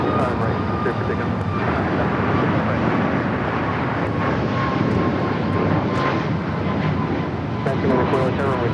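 An airliner takes off from runway 25 right at Los Angeles airport, a loud, sustained engine roar with wind rumble filling the whole stretch, while tower radio talk runs over it.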